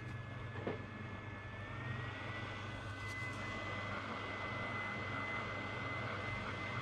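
A heat gun blows hot air to dry a cleaned Opel Vauxhall 1.7 DTI EDU circuit board, giving a steady, even airy roar with a faint high whine, continuous and close, with no talking.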